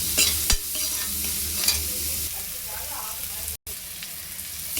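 Finely chopped onion with a little salt sautéing in a pan for okra fry, sizzling steadily while a spoon stirs and scrapes it in several close, sharp strokes.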